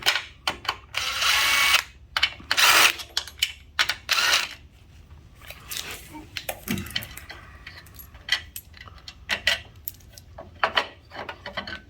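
Work on the windshield wiper motor of a 1966 Ford Bronco, with irregular metallic clinks, rattles and tool taps, some brief bursts of power-tool whirring early on, close by and with no talking.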